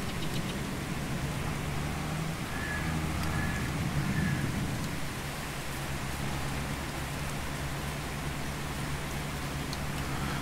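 Continuous rainfall in Farming Simulator 22 keeps up a broad, steady hiss over a low rumble, with a faint passing tonal hum near the start, unbroken and voiceless for about ten seconds.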